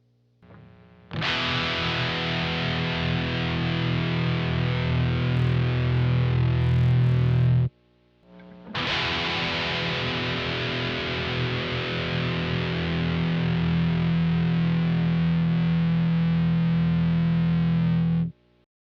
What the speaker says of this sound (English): Here is a Les Paul Custom with active EMG pickups.